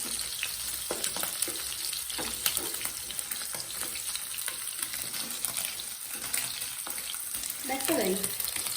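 Chicken frying in a little oil in a pan gives a continuous close sizzle, with scattered stirring scrapes and clinks and a brief louder burst of sputtering near the end.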